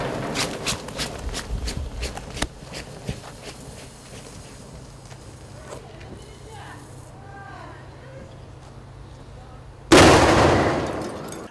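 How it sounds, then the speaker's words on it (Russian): Footsteps and faint voices, then a sudden loud bang of a firecracker bursting inside a jar with a sharp blast that rings and decays. "Имитируем взрыв, то есть что может случиться, если петарда примерно будет в руках у человека."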